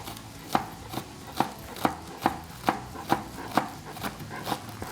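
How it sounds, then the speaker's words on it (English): A knife chops green onions on a cutting board in steady, evenly spaced close strikes, about ten crisp knocks in a row with no talking. "we're just gonna cut up some green onions"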